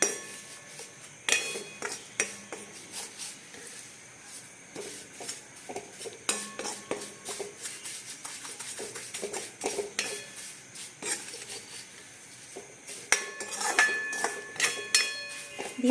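Food dry-roasting over a low flame is turned over and over in a pan, with rapid, irregular metallic clinks and scrapes of a spatula on the pan continuing throughout, close and fairly loud, with no talking.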